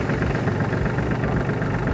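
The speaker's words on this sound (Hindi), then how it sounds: "जैसे ही मैं क्लच दबा के इसको स्टार्ट करूँगा तो एकदम से स्टार्ट हो जाता है।" Farmtrac Atom compact tractor engine running steadily right after a clutch-pressed start, a close, continuous diesel chug with a low throbbing rhythm and no voices.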